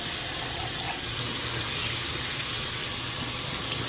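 Running tap water pouring over beans in a strainer at a kitchen sink, a steady, close hiss and splash of flowing water with no talking.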